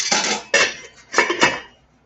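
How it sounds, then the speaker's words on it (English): Dishes, pots and pans clatter and clink in a kitchen sink while being rinsed, several bright bursts of clanking close by with brief gaps between them, no talk. "I gotta rinse all these dishes."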